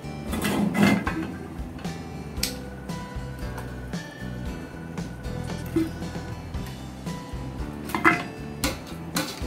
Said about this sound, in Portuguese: Passar toda essa carne para dentro da panela.